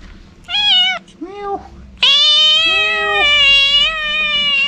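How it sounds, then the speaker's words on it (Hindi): A cat at Chitray Monastery meows several times up close, short calls followed by a long, drawn-out yowl, with faint background hum. "वो यहाँ पर एक बिल्ली है क्यूट सा,"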